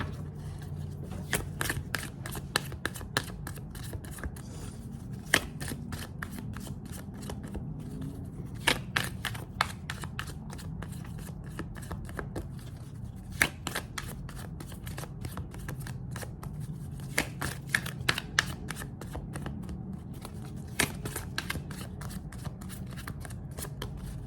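Tarot cards are shuffled and handled at close range, with repeated crisp riffling and flicking bursts over a soft, steady background.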